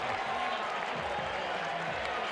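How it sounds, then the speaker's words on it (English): Crowd at a college baseball game booing, Army against Georgia, a steady broad roar of many voices filling the stands, continuous and moderately loud throughout. "that one drew some boos from the crowd"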